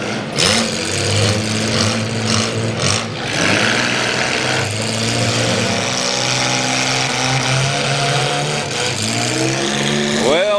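A demolition derby car at the Ashland County Fair cranks and struggles to restart, its engine sputtering and revving in uneven bursts, loud and close, over arena crowd noise and an announcer.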